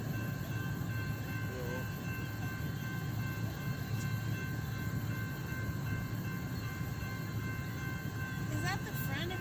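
A BNSF freight train led by GE Evolution series locomotives creeps forward at a grade crossing, a steady, close, low rumble of rolling cars that runs through the whole stretch with faint voices underneath.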